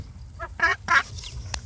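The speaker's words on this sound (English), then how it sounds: "we have baby ducklings" Baby ducklings calling nearby, a few short nasal quacking cries in quick succession, fairly loud and close, with no talk.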